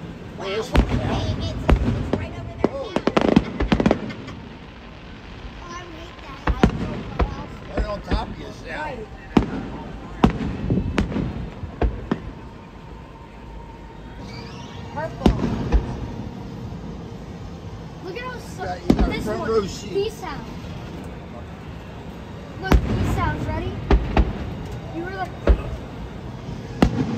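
Fireworks bursting repeatedly, loud booming and crackling explosions in irregular clusters, with people talking and exclaiming between the blasts.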